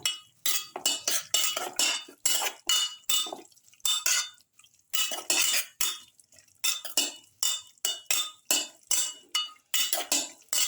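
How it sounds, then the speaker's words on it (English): A metal spoon stirring salt into chicken potato stew in a pot, a rapid, rhythmic series of close scraping and clinking strokes against the pot, with brief pauses, no talking. "Thoroughly mix it in."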